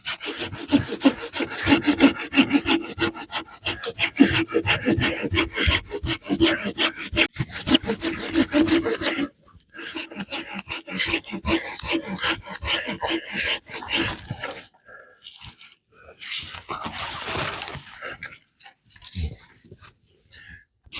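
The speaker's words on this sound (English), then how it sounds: "that was my first time sawing a tree down" Hand saw cutting through a tree in snowy winter woods, fast rhythmic back-and-forth rasping strokes, close and loud, pausing briefly midway, then slowing into scattered creaks and final strokes.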